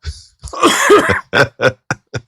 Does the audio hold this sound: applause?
no